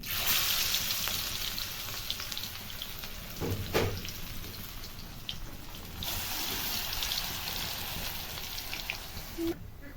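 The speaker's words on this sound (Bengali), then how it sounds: "এইভাবে পকোড়াগুলো সবগুলো নিয়ে আমি তেলে করে নেবো, ফ্রাই করে নেবো" Lentil pakoras made with masoor dal fry in hot oil, a steady close crackling sizzle like light rain, with occasional louder pops and spatters.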